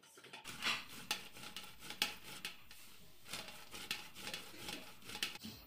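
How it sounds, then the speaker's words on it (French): Fresh Chilean corn (choclo) kernels being grated by hand on a grater in a home kitchen, a close, steady run of scraping rasps in uneven strokes with no talk. "Du coup, là, on va râper le choclo."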